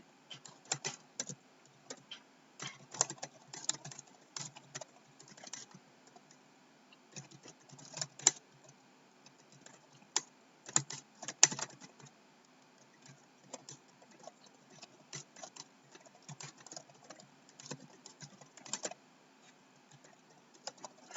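A computer keyboard is typed on steadily, with close, brisk clicking keystrokes in uneven runs and short pauses throughout, no voice over it.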